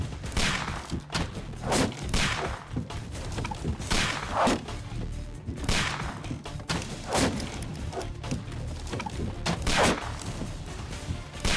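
Gunfire in the Sherlock Holmes: The Devil's Daughter video game, a run of repeated heavy shots and thuds arriving in irregular bursts over a steady background, with no talk over them.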